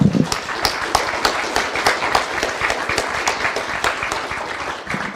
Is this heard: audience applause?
yes